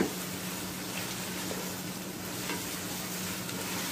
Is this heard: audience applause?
no